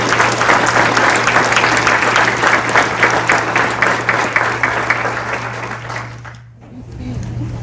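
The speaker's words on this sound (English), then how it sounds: "if you'd give them a round of applause for all the hard work they've done" Audience applause fills a high school gym or hall at a 2025 National Honor Society induction ceremony at Sherrard High School, loud, sustained clapping over a low electrical hum that dies away near the end.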